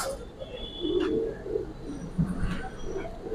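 A male Giribaz pigeon coos close by in a pigeon loft, several soft, throaty rolling calls in quick succession over faint background noise.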